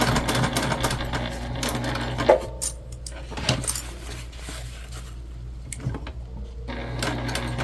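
Sewing machine stitching a cloth tag onto the outside of a fabric pencil pouch with a narrow seam, a steady mechanical whir in bursts with short pauses and light clicks between runs.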